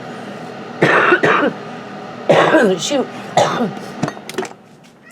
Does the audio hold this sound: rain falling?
no